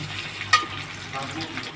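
Onions frying in a pan, a brief even sizzle with one sharp clink of a utensil near the start, close and steady.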